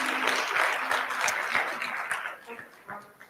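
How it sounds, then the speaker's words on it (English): Audience applause at a remembrance ceremony, a dense burst of clapping that gradually thins and fades out toward the end. "Can we give her a round of applause again"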